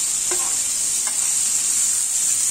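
Onion and ginger stir-fried in a pan for a mini singara filling, giving a steady, even sizzle with a couple of brief spatula scrapes near the start.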